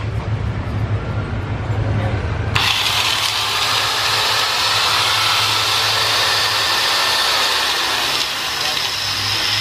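A restored modern electric angle grinder switches on and spins up, jumping from low background rumble to a loud, sustained high-pitched whine that runs close and steady for several seconds.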